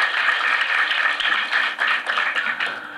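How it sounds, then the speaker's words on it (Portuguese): An audience claps in a steady, dense burst of applause for Dona Maria at a motivational talk, sustained for a few seconds with no speech over it. "Então vamos dar uma salva de palmas para Dona Maria"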